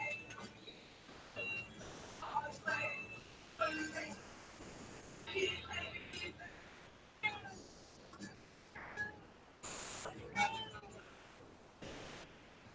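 A pet cat named Kitty meows repeatedly on a table in a workshop with a 3D printer, several short cries spaced across the stretch amid scattered bleeps and low background noise.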